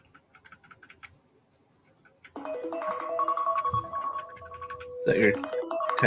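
A phone reminder alert rings out as a steady tonal, repeating electronic chime that starts abruptly and continues loudly, following a stretch of quiet keyboard typing, with talk mixed in.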